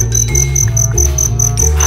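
A cricket in a garden chirps loudly and close by in rapid, evenly spaced pulses, several each second, over a steady low hum, with no talking.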